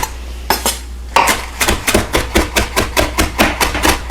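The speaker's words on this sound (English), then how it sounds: "once your herbs are all on the board, you're going to coarsely chop them" A knife coarsely chopping fresh herbs on a cutting board, a few separate strikes and then a quick, regular run of close, sharp chops.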